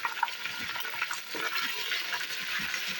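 Garlic and ginger frying in hot oil for beef haleem, a continuous bright sizzle with light stirring scrapes, close and steady with no pauses.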